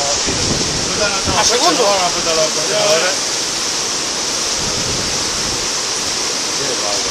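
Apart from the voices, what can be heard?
floodwater rushing during a flood in Murcia, Spain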